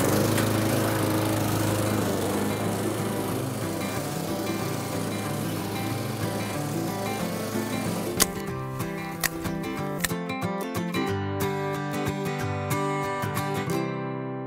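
A lawn mower engine drones steadily and close by, its pitch shifting slightly as it cuts, with a few sharp clacks of debris near the end.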